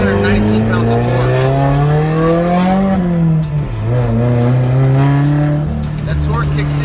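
Straight-piped 2015 Subaru WRX Stage 2+ making 276 hp and 319 lb-ft at the wheels, engine revving steadily with a rising then dipping harmonic drone, loud and close, held continuously for several seconds.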